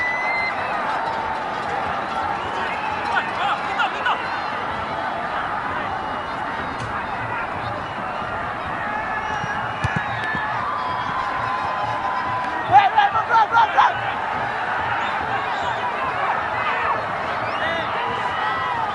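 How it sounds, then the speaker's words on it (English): A home crowd at a Bhutan versus Sri Lanka football World Cup qualifier cheers and murmurs steadily from a distance through the stadium, with a few brief whistles and sharper shouts standing out midway. "We have the home crowd cheering the referee"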